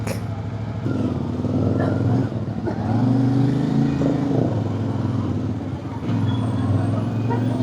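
Steady road traffic on a crowded mountain road by the Mt. Olis ridge: cars and motorcycles droning continuously nearby, with engine swells rising and falling across the stretch.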